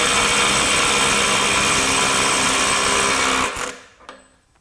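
A DeWalt DCF902B subcompact cordless impact wrench on a 2 Ah battery hammers loudly and continuously at a bolt, then stops abruptly and the sound falls away to quiet.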